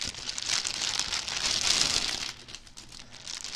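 Plastic packaging of a stamped cross stitch kit crinkles and rustles continuously as it is pulled open, a close, soft, hissy crackling that comes in waves with no voice over it.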